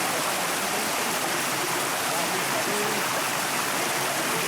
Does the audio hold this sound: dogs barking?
no